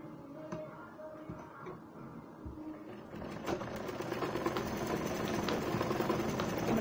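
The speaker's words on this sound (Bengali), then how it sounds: "আমরা বরাবর সেলাই দিয়ে জোড়া দিয়ে নেব।" A sewing machine stitches pieces of gown fabric together, its needle chattering in a quick steady rhythm, quieter at first and then running louder and continuously for the second half.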